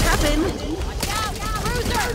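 Friendly-fire gunfire in the video game Back 4 Blood comes as loud, rapid bursts of shots mixed with game effects, with characters shouting over the shooting.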